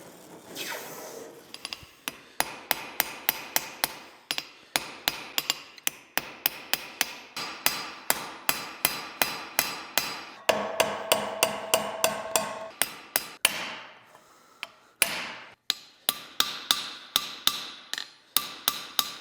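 Hammer forging a knife from pure silver: steady, rapid metallic blows in runs, with brief pauses and ringing hits on the anvil, close and clear with no talking.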